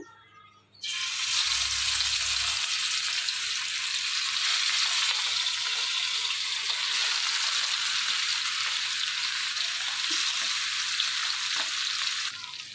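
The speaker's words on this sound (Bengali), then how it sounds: "তো এখন একটা একটা করে মাছ আমি দিয়ে দিচ্ছি" Bhagna fish pieces fry in hot oil with a loud, steady sizzle that runs unbroken and close for the whole stretch, with no talking over it.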